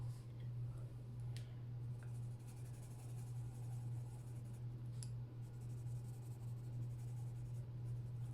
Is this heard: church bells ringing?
no